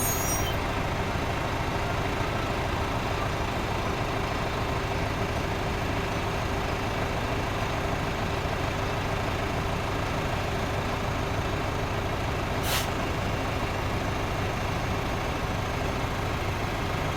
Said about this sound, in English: School bus.